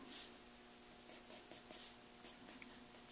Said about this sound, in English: I'm going to kind of lightly come in with a pencil first